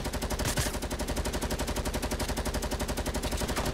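Sustained automatic gunfire in the video game Fortnite, a steady rapid stream of shots running loud and unbroken through the whole stretch.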